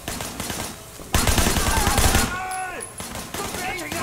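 Bursts of gunfire from the Sleeping Dogs Definitive Edition video game, with a dense volley in the middle, plus shorter shots before and after, over background game sounds and a talking voice.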